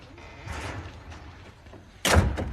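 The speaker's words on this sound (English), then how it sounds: "Shut the door, Danny" A door is shut in a police station office in 1984, landing as one sharp, loud slam near the end after some softer movement.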